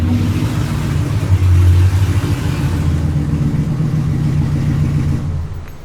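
A drag race car engine misfires as it limps along, a loud, rough, uneven rumble with lumpy low-end pulsing that holds steady throughout, close to the microphone with no talk.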